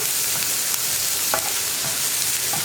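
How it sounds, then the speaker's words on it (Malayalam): Turmeric powder being stirred in a pan over a low flame, with a steady broad sizzle and a couple of faint scraping touches, close and continuous. "ഈ മഞ്ഞൾപ്പൊടിയുടെ ആ ഒരു റോ ടേസ്റ്റ് മാറി വരുന്നത് വരെ ഒന്ന് ഇളക്കി കൊടുക്കുക."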